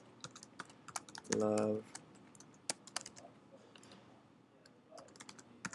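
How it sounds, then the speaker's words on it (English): Typing on a computer keyboard while entering an alias in a web publishing form, scattered quiet key clicks spread through the stretch, with a brief louder tonal burst near the start and some speech in the background. "so you can type an alias"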